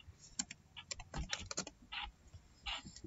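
Keys on a computer keyboard pressed in short irregular bursts while entering an admin login password for Apache Tomcat on Windows 10, close and clear, with no talking.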